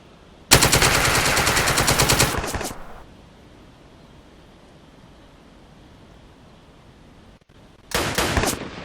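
Loud bursts of automatic gunfire from flanking shots in The Troop, an airborne infantry war game: a sustained two-second volley, then quiet, then another short burst near the end.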